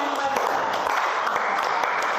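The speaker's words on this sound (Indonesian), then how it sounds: "Sekali lagi tepuk tangan." Students in a classroom give a short round of applause, a brisk, continuous patter of many hands clapping at a moderate distance.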